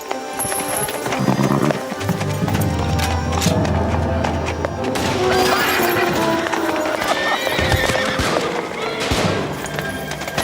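Horses of a squad of Uhlan cavalry approaching in an audio drama, dense clip-clop of many hooves with neighing and whinnying, loud and continuous, with scattered gunfire in the mix.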